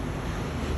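Ocean surf rolling in on Kuta beach in Bali, a brief, loud, continuous wash of breaking waves mixed with wind rumble against the microphone.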